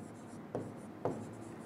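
Two short, sharp scratchy strokes of writing on a board in a classroom lesson, spaced about half a second apart, close and clear over a low room hum.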